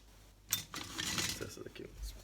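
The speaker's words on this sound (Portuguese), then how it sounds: "Deixa eu pegar aqui uma espátula." A spatula is picked up from among metal cooking utensils in a kitchen, a sharp clink followed by a brief clatter of scraping, jostling metal close by, with faint talk around it.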